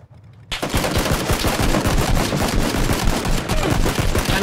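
Automatic gunfire in a video game's final battle in ruins starts abruptly after a brief quiet moment, then keeps going as a loud, dense, rapid stream of shots.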